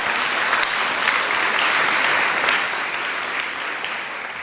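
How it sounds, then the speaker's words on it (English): Steady, loud applause from a school audience after an 8th grade chorus performance at a moving-up ceremony, dense clapping filling the hall and easing slightly toward the end. "One more round of applause"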